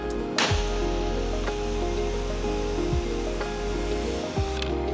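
A pressure washer fitted with a soap tip sprays water around a house exterior near bushes, giving a loud, steady hiss that runs the whole time, with brief dips and surges as the spray shifts.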